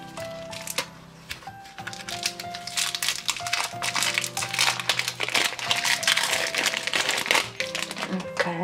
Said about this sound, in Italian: andiamo adesso a scoprire i nostri stampini